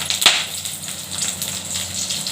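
Garlic sizzles in hot oil alongside dried red chilli, a steady crackling hiss with a brief sharp spatter near the start.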